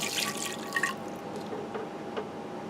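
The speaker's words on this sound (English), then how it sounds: "Now I have 1/2 cup of rice vinegar." Half a cup of rice vinegar pours into a crockpot with a soft trickling, splashing stream, close and quiet, with a few faint drips toward the end and no talking.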